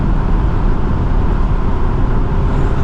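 A Honda S2000 engine roars at high revs under hard acceleration, a loud, dense, steady drone with road noise from inside the car, with no sharp change through the clip.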